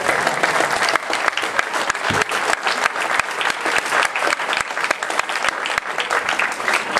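Sustained, loud applause from a comedy show audience, dense clapping filling the room steadily from start to finish with no pauses.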